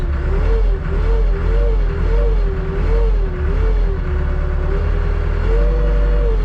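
A Hattat 398 Maxi tractor's engine runs loud and close with a steady diesel drone, its pitch rising and falling in gentle revs throughout.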